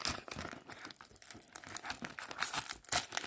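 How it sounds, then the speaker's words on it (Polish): Lego Ninjago Kai minifigure packet torn open by hand, a close, busy burst of plastic crinkling and tearing lasting a few seconds with no talk. "Teraz otworzymy tą figurkę Kaja, więc co, otwieramy."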